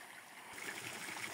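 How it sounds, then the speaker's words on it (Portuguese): A small waterfall on a trail is heard as a steady, soft broadband rush of flowing water, continuous and somewhat distant with no voices. "Essa cachoeirinha aqui agora."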